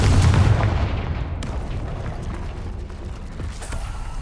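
Confringo blasting spell going off in Hogwarts Legacy: a loud, booming fiery burst at the start, followed by a sustained rumbling, crackling tail that slowly thins out, with no talking.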